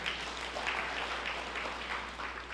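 A church congregation applauds during a sermon, a steady wash of many hands clapping throughout, moderately loud over a low hum.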